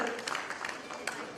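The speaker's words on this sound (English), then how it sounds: "Let's have a huge round of applause, ladies and gentlemen, please." A brief spell of audience clapping at an Indian regulatory conference, steady crowded patter from a hall full of attendees that continues for a moment at moderate level.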